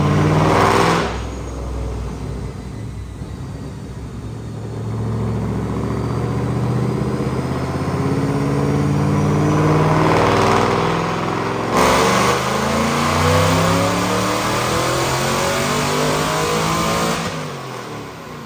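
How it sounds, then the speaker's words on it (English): A 2008 Mustang GT with a Vortech V3 supercharger and Detroit Rocker cams roars through a dyno pull, its engine note climbing through the gears in long loud sweeps with brief shift breaks, then easing off at the end. "check out this dyno pull"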